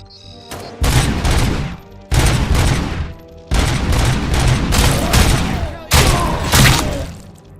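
Heavy, booming pistol fire in the RoboCop: Rogue City video game, a few loud bursts of shots with short gaps between them and no voice over them.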